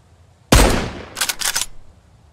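Gunfire in the zombie survival video game Mist Survival: one loud sharp shot with a decaying tail, followed by a quick burst of two or three more rapid shots, then quiet.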